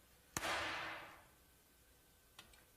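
Sodium metal dropped into water goes off in a single sharp explosive burst that hisses and fades over about a second, followed by a faint small pop a moment later, with no talking.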